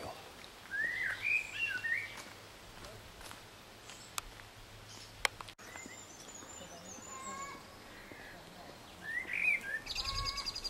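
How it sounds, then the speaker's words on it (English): Thrushes sing in English woods along an old railway trail in May, with faint, distant phrases heard intermittently near the start and end over a quiet outdoor background. "listening to thrushes in the woods"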